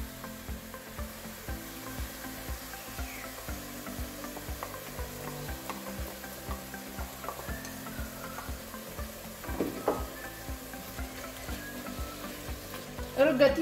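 Tomato paste cooks with softened onions in a pan, a low steady sizzle with light stirring scrapes under background music, with a sharper clatter toward the close.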